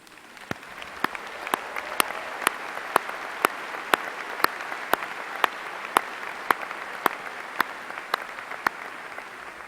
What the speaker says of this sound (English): the rest of us applaud you